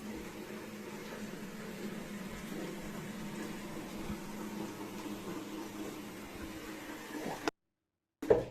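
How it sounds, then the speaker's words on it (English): Bathroom faucet left running, a steady, fairly faint hiss of flowing water that holds evenly and then cuts off abruptly near the end. "the bathroom faucet is left running as though someone or something had turned it on"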